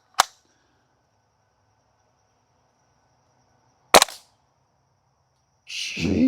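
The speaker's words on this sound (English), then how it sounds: "Now let's throw about 8 shots through it and we'll see what the chrono reads." A WE L85 gas blowback airsoft rifle fires two sharp, separate cracks several seconds apart through a chronograph, close and loud in a quiet room, followed by a brief hissing rustle at the end.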